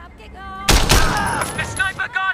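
A sniper rifle shot in the video game Sleeping Dogs booms loud and close, its blast and crackling tail ringing out for over a second between game voices.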